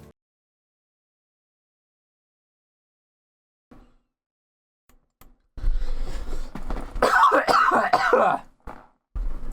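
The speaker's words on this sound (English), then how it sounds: "I was saving up that cough that entire time." After a long near-silence, a loud, close, raspy coughing fit breaks out and continues for several seconds, with a brief throat-clearing at the end.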